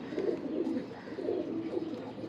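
Several pigeons coo in a ventilated loft, low throaty rolling calls in two clear swells, close and moderately loud, with faint chirps and no talking.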